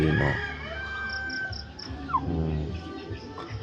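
A mother hen with newly hatched chicks makes low clucks and a brief cackle nearby, with faint high cheeping and insect chirps in the background and a person speaking softly.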